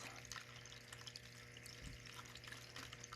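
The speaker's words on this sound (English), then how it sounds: "I have a small desktop water fountain" A small desktop water fountain trickles softly in a quiet indoor room, a faint, continuous burble and drip with a low steady hum underneath and no speech.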